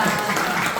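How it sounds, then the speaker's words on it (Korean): A brief burst of steady audience clapping at a literary lecture, a dense, even patter of many hands held at a constant level. "박수 좀 주세요"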